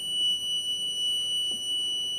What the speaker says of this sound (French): L'alarme s'active.